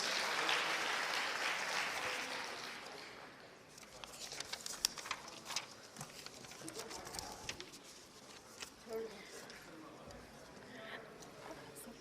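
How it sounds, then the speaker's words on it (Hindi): An audience at a government event in Bhopal, where women's self-help groups receive loans, breaks into applause: a dense, fairly distant patter of clapping that rises in bursts and carries on under a brief announcement. "जोरदार तालियां।"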